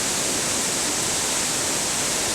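Glenashdale Falls on a rainy day gives a steady, dense roar of falling water, broad and constant throughout, with no voices.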